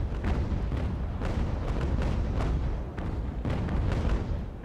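Round-shot cannon fire from a sailing warship in a naval battle game, a dense run of booming shots rolling one into the next at steady loudness, with no voices.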